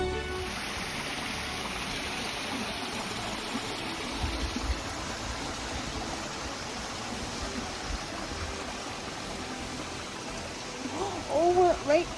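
A waterfall below a cliff on a mountaintop lookout hike makes a steady, broadband rush of falling water that fills the whole clip, with a voice speaking over it and a few brief louder moments near the end.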